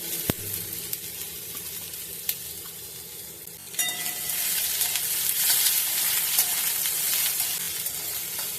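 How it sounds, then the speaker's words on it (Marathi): Thinly sliced onion hits a hot pan and fries, with one sharp knock at the start and a quiet sizzle that swells into a loud, steady hiss partway through. It is close, and no voice is heard. "हा बारीक उभा चिरलेला जो कांदा आहे तो आपण यात टाकणार आहोत आणि तोही आपल्याला छान असं मस्त भाजून घ्यायचा आहे"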